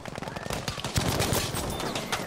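Dense gunfire from Battlefield V gameplay on PS4, including Bren light machine gun shots, crackles as rapid overlapping bursts and steady automatic fire, fairly loud and continuous throughout, with a voice mixed in.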